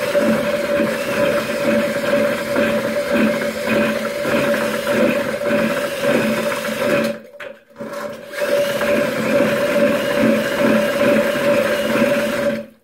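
A batch of Hydrostone plaster being mixed for air-release tile dies, heard as a steady, loud mechanical whir with a constant tone and a regular churning pulse. It cuts out briefly near the middle and then resumes.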